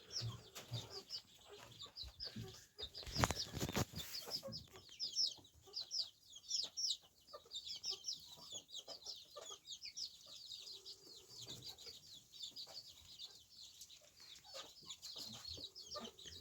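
Several chickens cluck and chirp steadily at a moderate distance, with scattered rustling and a brief louder thump near the start.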